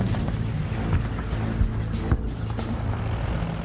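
Dense, continuous rumble of World War One artillery fire, with several heavier thuds and booms standing out against a constant roaring wash of sound.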